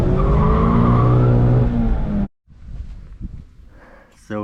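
Mazda MX5 with a Friedrich Motorsport Group A cat-back exhaust drifting, a loud close engine howl and tire squeal for about two seconds, then a sudden drop to quieter rumbling and a brief renewed rev at the end.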